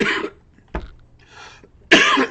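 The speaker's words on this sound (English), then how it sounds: "That's the one symptom I still have. I'm coughing." A person coughs several times, with sharp harsh bursts at the start and end and a short throat-clearing in between, close and alone without speech.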